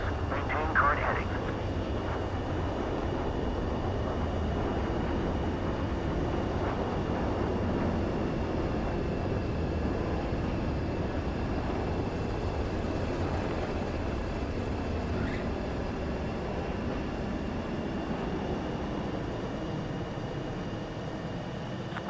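A fighter jet in the Ace Combat 7 video game touching down and rolling along a runway, with a steady engine roar and rumble that holds throughout and fades slightly toward the end.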